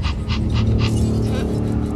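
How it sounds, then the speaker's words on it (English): Video game goat breathing in Jurassic World Evolution: rapid rhythmic panting breaths, several quick puffs over a low steady rumble, close and fairly loud. "I heard the goat breathing."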